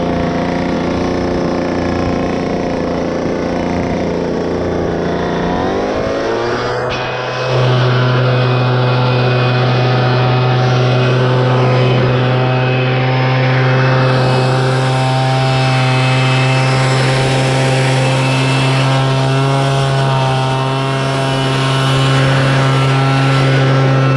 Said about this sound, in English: since they're so dusty, I'm gonna give the hay a blow off